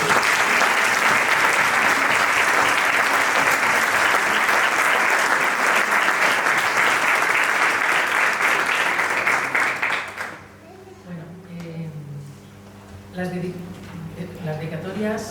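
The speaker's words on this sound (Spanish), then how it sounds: "pues un aplauso" Audience applause at a book presentation, loud and dense for about ten seconds, then stopping abruptly as a speaker's voice takes over.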